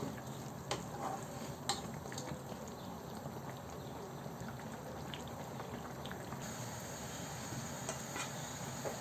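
Fresh spinach dropped into a pan of fried shrimp, giving a steady crackling sizzle with a few soft clinks and stirring scrapes, continuous and close throughout with no voices.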